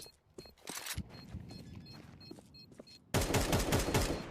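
Gunfire in a competitive CS-style shooter match, scattered single shots and footsteps followed by a loud sustained burst of rapid automatic fire at close range.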